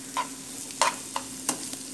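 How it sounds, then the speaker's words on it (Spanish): Onion fries in leftover bacon fat in a skillet, with a soft sizzle under several distinct scraping stirs of a spatula across the pan, close and without speech. "aquí en el sartén donde doré el tocino, voy a dorar la cebolla."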